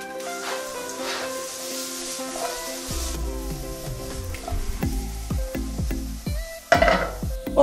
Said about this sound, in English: right now we are frying the sweet potatoes